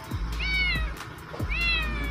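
A cat meows three times in slow succession, each call clear and fairly loud with a rising, drawn-out tone, against a steady low rumble and faint background noise.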